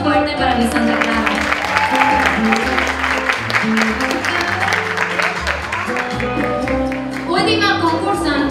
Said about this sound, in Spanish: Un aplauso fuerte para mi Santa Clara.